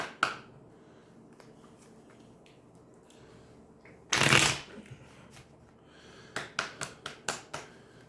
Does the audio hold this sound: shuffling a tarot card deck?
yes